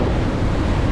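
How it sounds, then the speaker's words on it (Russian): Strong storm wind roars off the sea in Crimea, whipping spray from the waves, a dense low rumbling gust with wind buffeting the microphone, brief and loud. "Капли просто взлетают от ветра."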